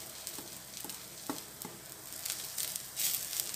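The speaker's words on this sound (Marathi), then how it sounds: "आता आपण त्यामध्ये खोबऱ्याचा पीस घालून परतून घेणार आहोत." Onion and coconut pieces sauté in a pan for coriander bhaji, a soft, steady sizzle broken by a few light scraping stirs of a spatula, with no voices.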